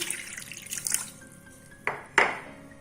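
Water pours from a glass into a kitchen pan holding boneless chicken, set for boiling: a brief splashing run, then a few sharp, separate drips and splashes, nearby and fairly quiet.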